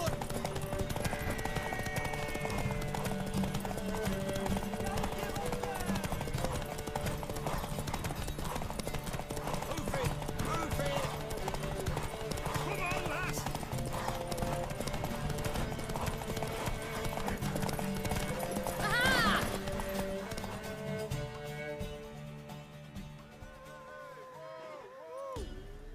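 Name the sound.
horse hooves galloping in video game Witcher 3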